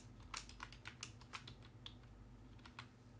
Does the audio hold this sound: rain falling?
no